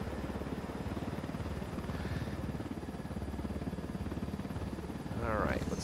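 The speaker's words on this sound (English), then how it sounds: "Land the helicopter here." Helicopter in the tactical shooter Ghost Recon Wildlands, a continuous loud rotor chop and engine drone filling the whole stretch without letup.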